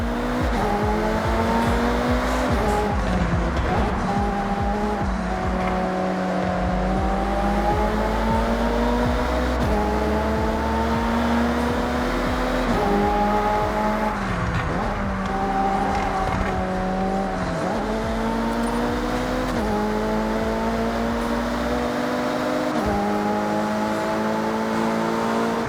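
Race cars in the Forza Horizon 6 driving game rev hard through repeated gear changes, the engine pitch climbing and dropping in steps while tires squeal, loud and close, with no talk.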